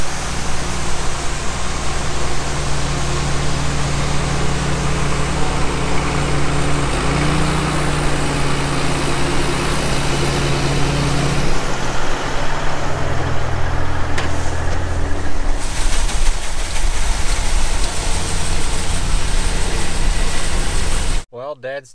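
Auger cart unloading corn during harvest, a loud continuous engine and auger roar with grain rushing, steady throughout and close up, cutting off abruptly at the end.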